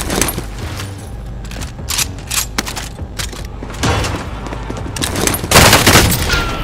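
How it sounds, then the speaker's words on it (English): Loud, close gunfire in the battle royale shooter Call of Duty: Warzone, with rapid bursts and single sharp shots layered over dense background fire and occasional booms, with no pause throughout. "Receiving hostile fire."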